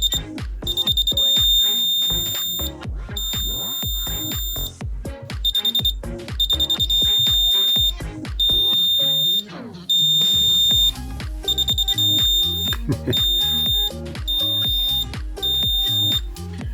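Repeated high electronic beeping in bursts over a busy rhythmic backing, a kitchen timer alarm pattern cycling steadily and loudly.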